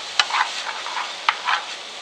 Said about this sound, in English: Want to make sure I give it a nice stir.